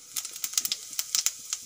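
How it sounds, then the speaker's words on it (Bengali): Whole cumin seeds crackle in hot oil in a kadai, a quick run of sharp, bright pops and ticks over a faint sizzle, close up and with no talk. "তেল গরম হয়ে গেছে, দিয়ে দেব গোটা জিরা"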